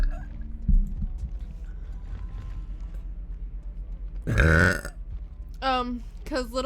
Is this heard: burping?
yes